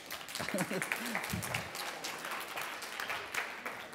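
An audience breaks into steady applause, a dense wash of clapping, while a voice talks briefly over the start.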